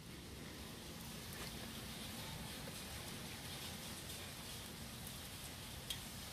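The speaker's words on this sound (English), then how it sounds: "When you wake up in the morning and it's raining, just look at this." Morning rain falls steadily in a constant soft hiss, faint and even, with one brief tick near the end.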